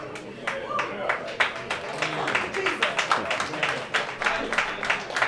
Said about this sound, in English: Don't clap because it's cute.